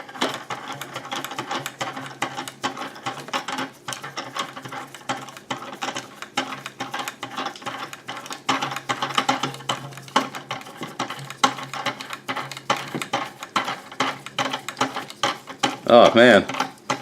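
A North Bayou desk mount clamp is tightened onto a tabletop, producing long runs of rapid ratcheting clicks and mechanical grinding, close and moderately loud, ending with a louder clatter.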